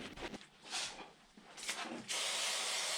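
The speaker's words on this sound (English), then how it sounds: "Then I sprayed in the spray adhesive" Short hissing bursts of spray adhesive from an aerosol can, then a longer sustained spray at the end, close by, with some handling noise between, applied to a car seat's foam under its cover.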